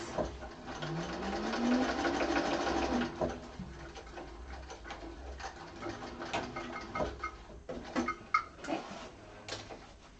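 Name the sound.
sewing machine stitching sides of a bag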